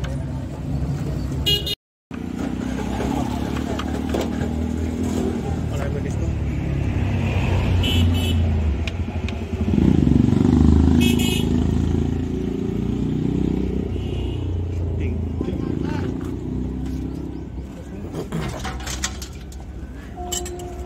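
A Maruti Swift with a gear shifting problem runs steadily up close while the driver works the gearbox into reverse, with brief clinks and a short horn-like toot over the continuous engine hum; voices talk in the background.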